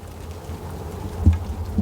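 Steady rain patters outside a taxi on an early-morning ride home, a soft continuous wash of falling drops with a few slightly louder hits, no one talking.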